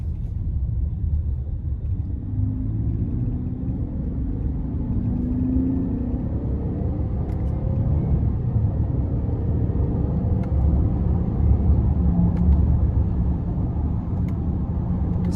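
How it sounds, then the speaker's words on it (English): A 2024 Buick Enclave V6 with all-wheel drive accelerates in low gear, heard from inside the cabin as a steady low engine rumble and road drone that builds slightly, with faint clicks and no talking. "I'm going to give it a little bit of gas. And I'll actually put it into low gear."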